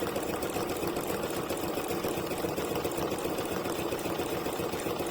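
A home sewing machine runs continuously at moderate speed stitching a 3D satin stitch, a steady, close, buzzing motor hum with rapid needle chatter and no pauses.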